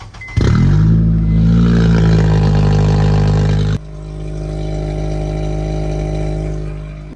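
Car engine running after a cheap temporary exhaust repair behind the flex pipe, starting with a sharp rev that settles into a steady, loud rumbling idle, then a sudden drop to a smoother, quieter hum, with no talking.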